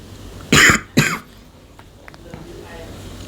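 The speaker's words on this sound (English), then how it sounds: "My head hurts from coughing so much" Two short, harsh coughs close to the microphone, half a second apart, followed by quiet room noise.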